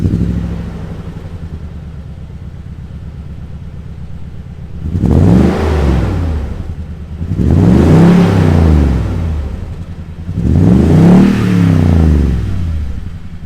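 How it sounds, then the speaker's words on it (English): Toyota Tundra TRD Pro V8 with a dual TRD catback exhaust idling low, then three loud revs, each rising and falling back, close by with no talk. "we can't talk about the things I like of the Tundra here without mentioning that TRD catback exhaust combined with that V8 here"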